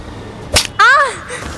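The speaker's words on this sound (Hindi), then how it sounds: "कान के पीछे 2 थप्पड़ मारे" A dramatised slap behind the ear in an audio story: a sharp smack followed by a whipping swish and a bright wavering tone, loud and close, with no talking.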